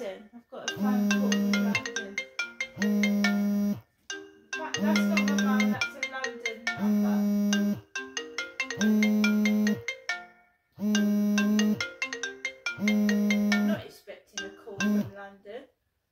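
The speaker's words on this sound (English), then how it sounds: "I've got a phone call." A mobile phone ringtone rings repeatedly for an incoming call, a bright chiming melody in loud bursts separated by short gaps, close and clear with no talking over it.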